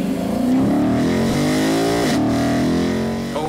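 A 2016 Lexus RC-F V8 engine revs hard and loud up close, a continuous snarling roar that climbs in pitch, dips briefly at a gear change, then pulls up again.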